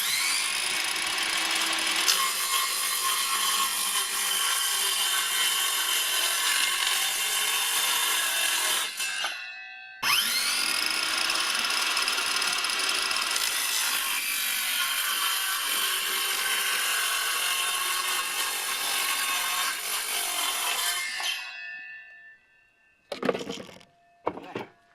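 Work on plywood bus seat bottoms as staples are pulled out, a loud sustained grinding, tool-like noise in two long stretches with a short break between, ending in quieter scattered clatter.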